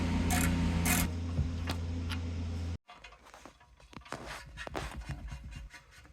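Ratchet working on the oil pan drain plug of a BMW e92 335xi, a close loud steady mechanical whir that stops abruptly, then a run of quick clicking ticks from the tool.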